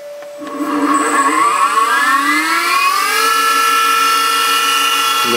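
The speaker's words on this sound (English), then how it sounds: "And there's the motor going." An electric motor driven by a VFD inverter set to 60 hertz starts up, its whine climbing steadily in pitch as it spins up, then settling into a loud, even, high-pitched hum.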